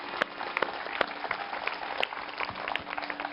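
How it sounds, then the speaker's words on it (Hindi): Scattered applause from inmates at a yoga training session in Yerwada Central Jail, Pune, with separate sharp claps popping out of a soft, steady patter; fairly faint and roomy. "जोरदार तालियां इनके लिए"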